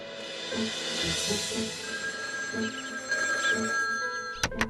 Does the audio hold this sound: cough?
no